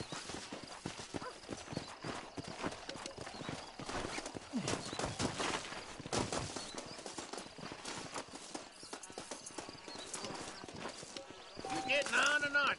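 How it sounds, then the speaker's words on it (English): Horse hooves clip-clopping in Red Dead Redemption, a steady run of hoof beats at moderate level under game music, with a louder flurry near the end. "This steed looks right tetchy, I don't mind telling"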